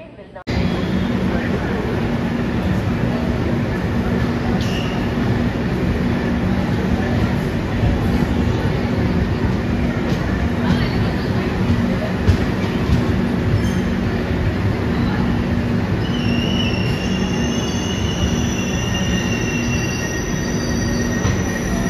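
Duronto Express passenger train running on rails between New Delhi and Mumbai, a steady loud rumble of wheels on track with squealing and faint clicking, heard from inside the carriage with voices in the background.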